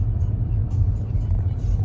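Low, steady rumble of cars in slow traffic near San Juan Capistrano, heard from inside a vehicle on a long drive, a continuous droning hum.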